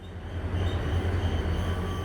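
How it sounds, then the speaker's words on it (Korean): A steady, heavy rumble of a blue diesel locomotive hauling a Korean tourist train roars nearby, low and continuous, with faint rail noise on top. "디젤 기관차라 엔진 소리가 우렁차네요"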